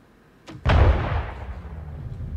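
A sharp weapon shot in Star Citizen is followed immediately by a loud, close explosion whose deep rumble lingers and slowly decays.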